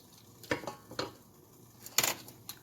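Butter being stirred with roasted onions, garlic and tomato in a pot for roasted tomato basil soup: a few separate clinks and scrapes of a utensil against the pot, with quiet pauses between them.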